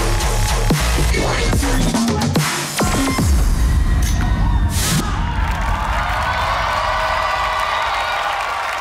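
Audience cheering and applause for the dance group God is Love on a televised Indonesian dance competition, a broad roaring wash of crowd noise rising after music-like tones and continuing loud to the end.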